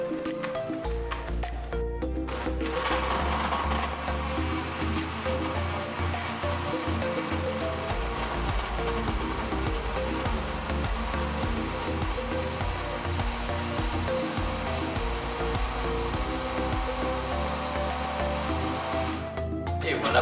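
A food processor whirs continuously after a short start, blending ingredients that include achiote, a dense steady roar lasting nearly twenty seconds before cutting off.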